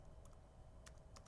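Short bursts of keystrokes on a computer keyboard as a Linux command is typed at a terminal, a few quiet clicks close by over a low steady hum.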